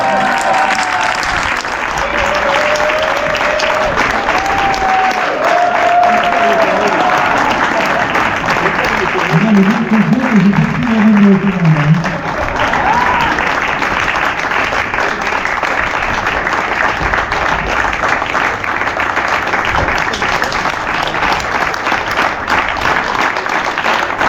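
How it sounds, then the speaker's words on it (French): A seated audience applauds at the end of a trail running film screening, sustained loud clapping for the whole stretch, with voices and calls mixed in. "on peut applaudir Sylvain pour ce film"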